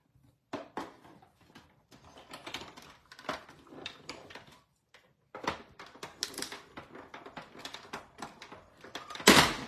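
An embossing folder fed spine first through a hand-cranked embossing machine for a card base, producing a series of close clicking, crunching and grinding bursts with a short pause midway and a louder crunch at the end.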